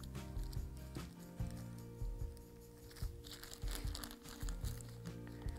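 A plastic bag crinkles and rustles close by as small balls of fondant are dropped into it, soft irregular crackles over a low hum.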